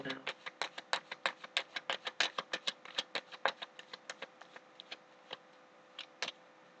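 A rapid run of crisp clicks and flicks, like cards being riffle-shuffled, dense at first and thinning out toward the end, close and fairly quiet.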